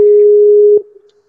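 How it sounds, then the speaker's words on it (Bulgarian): A Skype call ringing tone: a loud, steady electronic tone that holds for most of a second, then cuts off abruptly, followed by near silence. "звъни ти по скайп в момента"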